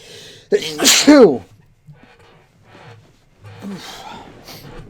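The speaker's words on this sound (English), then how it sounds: "It's a couple of sneezes while I've recorded this one." A man gives a loud, close sneeze with a sharp intake and burst, followed by quieter breathing and a smaller second sneeze-like snort.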